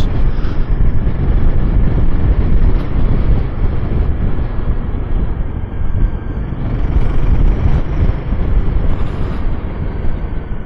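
Strong, steady wind roars and buffets over the microphone of a rider on a 2024 Royal Enfield Himalayan motorcycle, loud and continuous, with the engine buried underneath.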